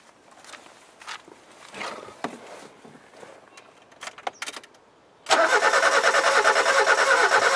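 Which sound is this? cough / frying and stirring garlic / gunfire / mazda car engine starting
mazda car engine starting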